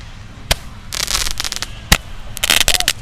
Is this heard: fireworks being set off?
yes